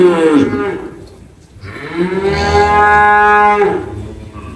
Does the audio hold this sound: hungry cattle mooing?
yes